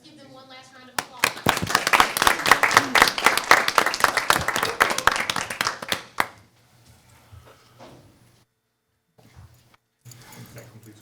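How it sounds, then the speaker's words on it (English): Applause from the audience at a school board of education meeting: a dense burst of many hands clapping that lasts about five seconds and then cuts off abruptly, followed by quiet room noise and a few faint sounds. "Let's give them one last round of applause."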